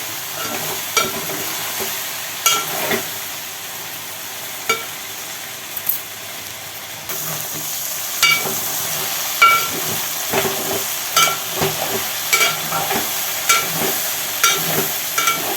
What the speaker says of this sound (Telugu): అడుగంటకుంటా కలుపుకోవాలి. కూర అయ్యే వరకు 10 సార్లు కలపాలి.